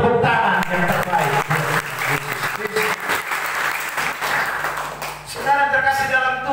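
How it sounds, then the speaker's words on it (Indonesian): A church congregation breaks into strong applause during a Sunday sermon, dense clapping that fills most of the stretch and then fades as a voice speaks again. "Beri tepuk tangan yang terbaik"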